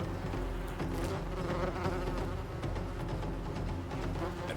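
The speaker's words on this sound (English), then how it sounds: "Rainforest wasps are among the most avid predators of glass frog eggs." A rainforest wasp buzzes near a clutch of glass frog eggs, a steady close drone that holds evenly throughout without pause.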